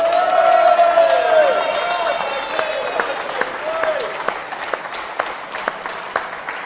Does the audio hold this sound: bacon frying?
no